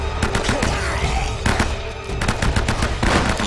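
Rapid gunfire from the video game Uncharted: Drake's Fortune, dense bursts of automatic shots and thuds in a loud, continuous firefight with no talk over it.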